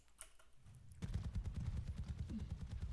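A rapid stream of weapon shots fires in Overwatch, as quick, even, clicky bursts that start suddenly and carry on steadily at moderate loudness.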